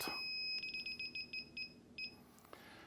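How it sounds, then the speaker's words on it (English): An electronic refrigerant leak detector for R600a emits a rapid series of high-pitched beeps, about eight quick chirps, then a pause and one more, close and fairly quiet. "it's going to scream just like any other leak detector"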